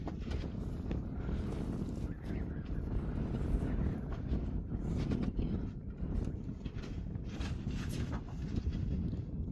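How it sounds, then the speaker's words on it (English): Strong wind roars steadily across an open rural off-grid plot, buffeting the microphone with a constant low rumble and gusty swells, with no voices. "This wind is already picking up pretty bad."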